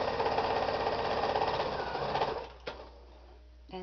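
A sewing machine back-stitches and stitches fabric, running in a fast, loud rattling burst for about two seconds before slowing and stopping, followed by a faint click.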